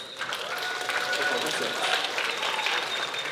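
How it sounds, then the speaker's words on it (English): An audience at a live performance breaks into applause, a dense, steady patter of many hands clapping together for a few seconds. "give another round of applause for our performance."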